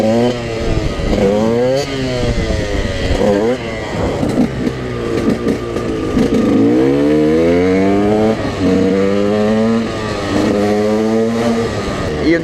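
A supermoto motorcycle engine revs hard and loud close by, its pitch climbing and falling in repeated sweeping bursts throughout, with a voice talking over it at times.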